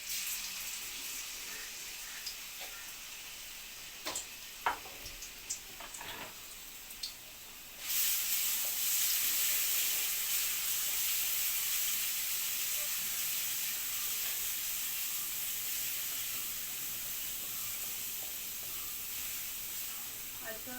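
Crushed ginger and garlic hit hot coconut oil for a pork curry, setting off a sudden loud, steady sizzling hiss after a few quiet seconds with faint clinks, then sustaining evenly to the end.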